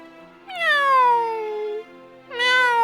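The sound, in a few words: voice imitating a cat meowing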